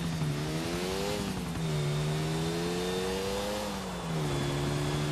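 A pink Faggio scooter in GTA IV buzzes steadily at high revs, its engine pitch rising and dipping as the throttle shifts, loud and close with no talk.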